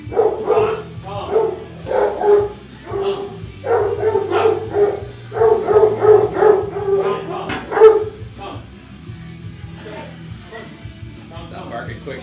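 Dog Gronk barks and yips in quick bursts indoors, loud and close, with people talking over and between the barks.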